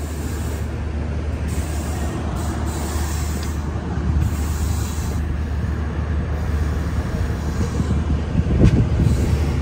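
A Humsafar Express train pulls out of Ariyalur station, heard from inside the coach as a steady low rumble of wheels and carriage. It grows slightly louder, with a faint rattle and a brief clank near the end.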